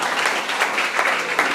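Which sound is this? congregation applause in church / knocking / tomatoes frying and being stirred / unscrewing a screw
congregation applause in church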